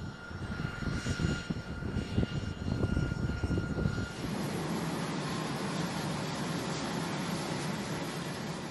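A US Navy carrier-based military drone engine drones steadily at a loud, even level, a broadband aircraft roar that shifts in character partway through and continues without voices.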